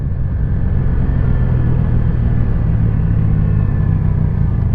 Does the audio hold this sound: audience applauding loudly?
no